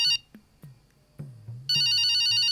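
A telephone ringtone plays loud and close, a melodic electronic ring that starts, breaks off with brief low thumps between, then returns steadily.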